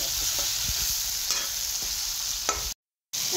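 Onions fry in oil for biryani, giving a dense, bright sizzle with a few utensil scrapes, then a sudden short dropout to silence before the sizzle returns.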